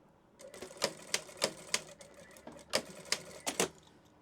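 A sewing machine stitches folded fabric pieces together, its needle punching in a steady run of sharp, close, evenly spaced clacks over a low motor hum.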